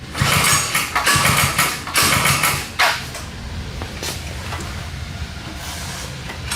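A cheap Temu 10HP diesel engine mounted on a go kart, cranking and running with loud, rough chugging bursts that settle into a steady, steady mid-pitched idle rumble, close by with no talking.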